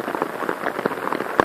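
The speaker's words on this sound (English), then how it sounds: "It has been raining." Steady rain patters on a shelter at a wet campsite, a constant close hiss of drops with scattered louder taps and one sharp knock near the end, heard alone.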